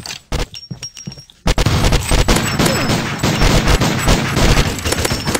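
Minigun fire in a video game shooter, loud dense bursts of rapid gunfire that start after a brief quieter gap and continue almost without a break.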